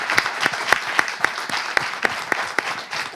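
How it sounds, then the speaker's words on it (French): A small studio audience claps in a steady rhythm, each sharp clap standing out at close range over a continuous wash of scattered hand claps. "déjà ça s'applaudit"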